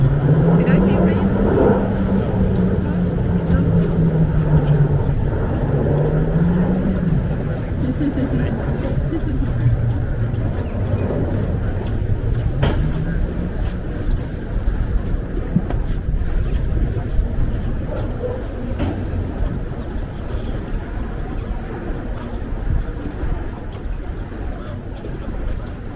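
Canal boat cruising an Amsterdam canal, a steady droning engine hum under heavy wind rumble and water wash, close and loud throughout, with the engine pitch rising and falling early on.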